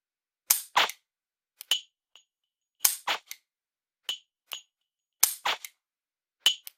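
G-Sight LaserHit laser dry-fire training produces sharp trigger clicks, each followed by short electronic beeps, in three spaced bursts over otherwise silent background.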